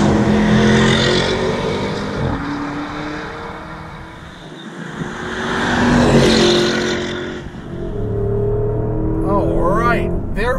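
A 2021 Porsche Cayenne GTS in manual Sport Plus mode accelerates hard, the engine note climbing through gears with brief dips at each shift, loud and close from inside the cabin.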